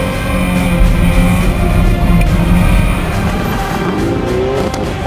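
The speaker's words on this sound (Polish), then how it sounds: "Subaru, impreza, STI R4, niesamowicie piekielnie," Subaru Impreza STI R4 rally car driving fast on a rally stage, a loud, steady engine roar holding high revs throughout with no pauses, heard up close.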